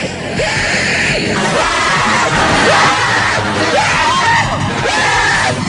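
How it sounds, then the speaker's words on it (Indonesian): Two men scream hysterically on a Swiss Shot amusement ride, loud sustained overlapping screams and yells over ride noise for several seconds. "dua orang pria yang berteriak histeris saat bermain permainan Swiss Shot Tag"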